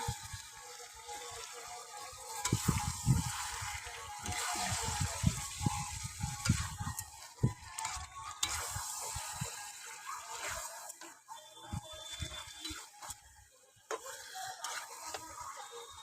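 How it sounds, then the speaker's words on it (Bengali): Chicken kosha is stir-fried in a pot over a wood-fired stove: a bubbling, wet sizzle with repeated scraping and clanking of the spoon against the pot, close and moderately loud, with no speech. "চলো এবার ভালো করে আমি কষিয়ে নেবো"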